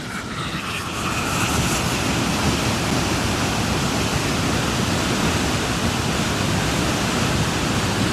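Loud, steady roar of water rushing through a rocky gorge near Alesund, Norway, swelling after the first second into a continuous dense wash with no talking.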